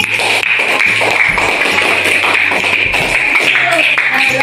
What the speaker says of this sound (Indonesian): Kasih tepuk tangan untuk Eni.